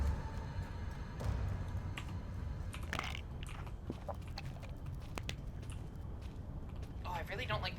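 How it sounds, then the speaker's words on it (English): Pills being crunched between the teeth in the horror game Penumbra Overture, a few close, sharp biting crunches over a murky ambient background, with talking in places. "I really don't like that crunching noise you make when you take painkillers"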